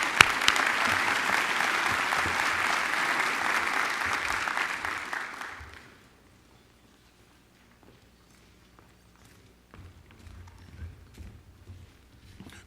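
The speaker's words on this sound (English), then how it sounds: "Let's give all of our winners another round of applause" Audience applause for award winners at a university Phi Beta Kappa forum, a loud sustained round of clapping that fades out after about six seconds, leaving near silence with faint rustling.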